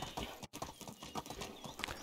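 Horse hooves clip-clop steadily in the medieval life-sim game Medieval Dynasty, a brisk, even trotting rhythm that runs the length of the short stretch with just one momentary gap.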